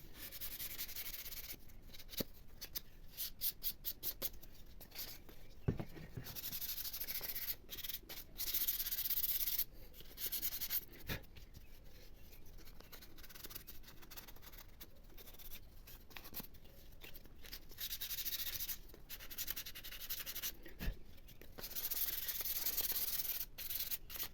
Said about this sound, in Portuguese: Sempre lixar no sentido do veio da madeira, para evitar que fique marcas de lixa